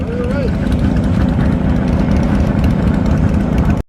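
Kawasaki H1 and Yamaha RD400 two-stroke motorcycle engines at a meetup in Bogotá, a loud, continuous, close buzzing engine drone that holds steady throughout before cutting off abruptly at the end.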